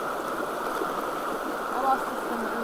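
Creek water flows steadily into a waterfall pool, a constant rushing, gurgling wash at a moderate level with no breaks.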